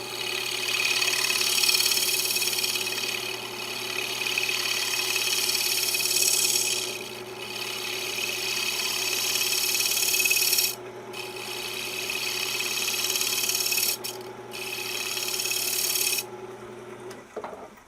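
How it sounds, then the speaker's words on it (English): A gouge takes shear cuts across a wood surface, giving long, close, steady rasping passes separated by a few brief pauses over a constant low machine hum. "I will come back with my gouge and just take some shear cuts."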